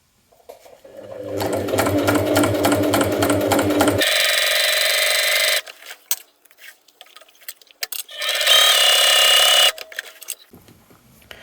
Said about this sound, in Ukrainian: Починаю строчки зверху вниз